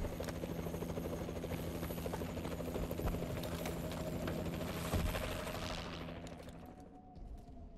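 The warbird aircraft killstreak in Call of Duty: Advanced Warfare thrums with a continuous rotor-like engine drone and bursts of rapid gunfire, then fades away toward the end.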